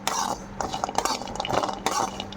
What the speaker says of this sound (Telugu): కొబ్బరి కూడా నీట్గా వేయించుకోవాలి